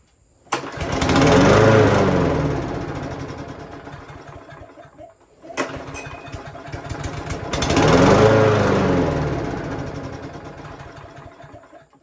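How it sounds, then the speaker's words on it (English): A Craftsman lawnmower with a Briggs and Stratton engine fires up and runs loudly for a few seconds, fades as if dying, then starts again and roars before sagging once more, close and alone. "how to fix a lawnmower where the engine starts but quickly dies"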